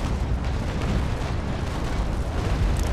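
Warship broadside cannons in the Naval Action game let go together, a dense, loud rumbling roar of overlapping blasts that stays heavy and continuous for a few seconds, close by.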